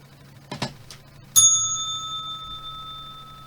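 A single bright ring of the closing bell on a stock trading floor, which sounds once and decays slowly, coming after a couple of soft taps.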